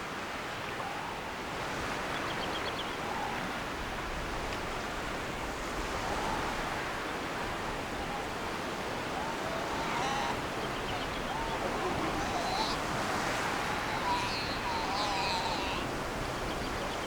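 Steady ocean surf washes onto a rocky Galapagos beach where sea lions and lizards gather, a continuous broadband roar of breaking waves with wind across the microphone and no clear voices.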